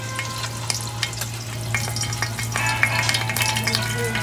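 Burger meat fries in hot oil in a home kitchen pan, giving a close, continuous crackling sizzle with scattered sharp pops over a steady low hum.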